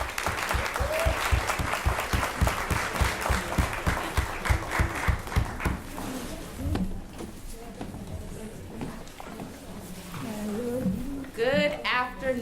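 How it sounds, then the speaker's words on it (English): An audience applauds to welcome a speaker, a fairly close and lively patter of many hands that fades out after about six seconds, then a voice begins speaking. "let's give a hand clap to none other than Ms."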